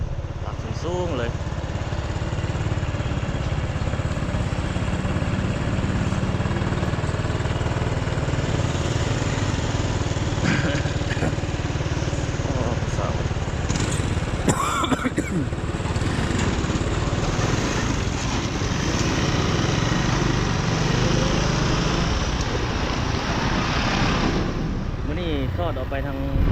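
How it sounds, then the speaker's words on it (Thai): A pile drilling machine works at a construction site in Vientiane, giving a continuous heavy engine drone with grinding, rattling and occasional clanks, loud and close for the whole stretch. "กำลังที่เจาะเสาเข็มอยู่นี่"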